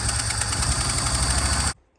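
Chevy 292 inline six engine running rough with a possible stuck valve and backfiring, a close, loud, uneven throbbing idle that cuts off abruptly near the end.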